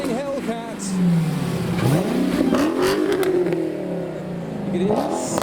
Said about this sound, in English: We have a revving Hellcat